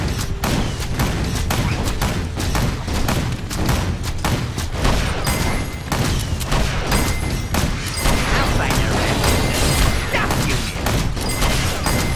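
A big gun in the video game Strife fires continuously in rapid, dense bursts of booming shots, loud and unbroken throughout with a busy game soundtrack underneath.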